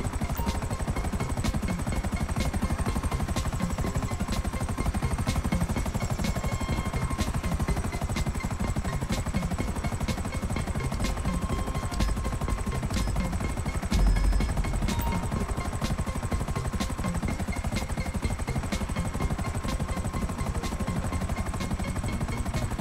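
A helicopter in Grand Theft Auto V flies continuously, its rotor thrum and turbine whine loud and steady throughout with no talk over it.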